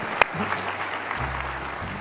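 A meeting audience claps for itself, a steady, moderately loud patter of many hands lasting about two seconds, with a low electrical hum underneath and one sharp knock near the start.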